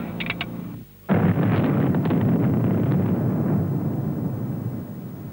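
A mine blast fired at the end of a countdown at Mt Newman: a sudden loud, deep boom that rolls on as a sustained rumble for several seconds, with no talk over it.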